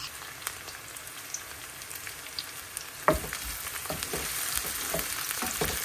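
Dried red chillies frying in hot oil for a pan of greens, a soft steady sizzle with faint crackles that turns louder and busier with scattered pops halfway through.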